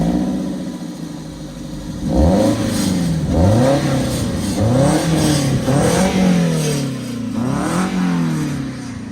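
A Toyota MR2 fitted with a Corolla engine drives and revs, its mid-range engine note rising and falling in repeated surges, steady and close throughout.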